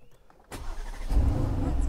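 An Aston Martin DB11 Volante's engine starts: a quiet cabin, a sharp starter crank at about half a second, then the engine catches and settles into a loud, steady idle.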